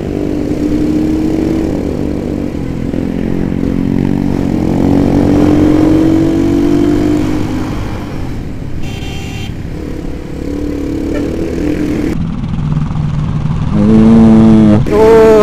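A motorcycle overtakes on a road at night, its engine rising in pitch as it passes close by, under the steady drone of the recording vehicle's own engine.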